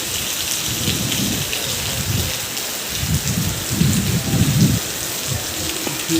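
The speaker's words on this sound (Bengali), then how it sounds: "দেখছেন কত বৃষ্টি" Torrential monsoon rain in Tamil Nadu roars continuously over a truck terminal while deep thunder rumbles swell and fade beneath it, loudest toward the middle.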